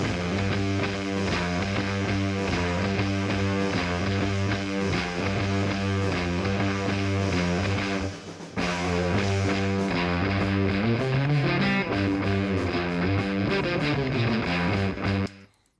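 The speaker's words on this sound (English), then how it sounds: "I'm gonna play you a bit of the riff here. I'm gonna solo up the guitars." Soloed electric guitar tracks from a song play a dense, driving distorted riff in a steady rhythm, loud and continuous with a brief gap midway, with no talk.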